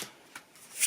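Playing cards slid off a deck one at a time, two or three quick crisp papery flicks close up, the last one the loudest.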